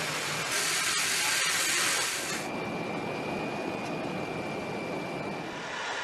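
US Air Force E-8 Joint STARS surveillance aircraft: a loud, close jet roar that is heavy and broad for the first two seconds, then eases into a thinner rushing drone carrying a faint steady whine.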